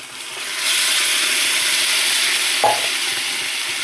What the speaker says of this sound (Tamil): போட்டு நல்லா கிளறி விட்டுறலாம்.